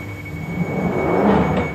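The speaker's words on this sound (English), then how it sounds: "I'm on the Northern line for the first time ever." Interior rumble of a London Underground Northern line train carriage, a steady low hum with mid-range rattle that swells slightly as the empty car runs, no voices present.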